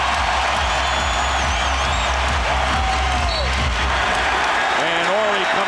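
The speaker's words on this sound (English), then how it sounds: "and the crowd rises in unison" A basketball arena crowd at an NBA game between the Lakers and Kings in Sacramento cheers and applauds steadily and loudly, with sneaker squeaks and a commentator talking over the dense roar.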